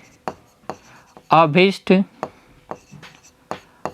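Chalk or marker strokes on a board during a Class 10 maths lesson, a series of short scratchy taps and scrapes spaced out across the moment, with a teacher briefly speaking in the middle.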